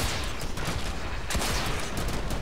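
Rapid gunfire from the Kulstar weapon in the shooter game Warframe, a dense volley of sharp, loud shots and blasts in quick succession with a heavy burst partway through.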